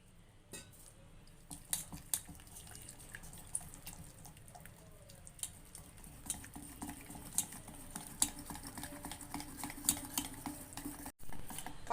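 Maida flour being stirred into water for halwa, with soft, quiet scraping and clinking of a spoon against the bowl in irregular strokes, alone without voices.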